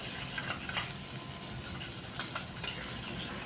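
Large-cut potato pieces frying in hot oil, a dense continuous sizzle with small pops and crackles, close and fairly quiet with no voices.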